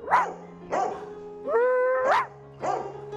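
A dog barks repeatedly and loudly up close, four sharp woofs in a steady rhythm with a drawn-out whine in the middle.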